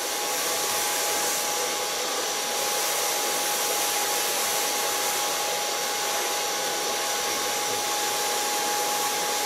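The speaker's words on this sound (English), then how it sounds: "Blow drying and starting on the back, working to the front," A hair dryer blows steadily while short pixie-cut hair is dried from back to front with a medium brush, a loud, constant airy roar with a thin whine, close and uninterrupted, without speech.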